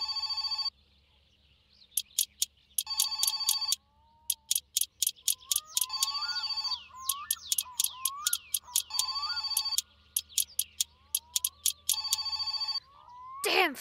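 An old telephone in the My Summer Car game rings in repeated electric bell bursts with short gaps, while a voice chatters and whistles in between the rings over a quiet hum.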